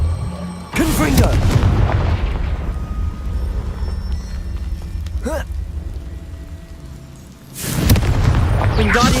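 Two loud, booming blasts from the Confringo blasting curse in the Hogwarts Legacy video game, each with a rumbling tail and set several seconds apart, with a brief sharper crack between them over constant game ambience.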